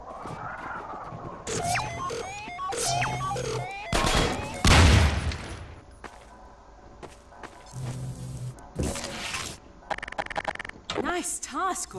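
Gunfire bursts in Half-Life 2 Episode One ring out among loud in-game impacts and mechanical sounds, with a voice speaking between the shots.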